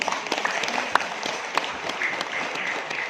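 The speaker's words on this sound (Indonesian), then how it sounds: "Tepuk tangan untuk anak-anak kita." A crowd at an Islamic boarding school gathering applauds for the children, dense steady clapping filling the room, with a few louder individual claps standing out near the listener.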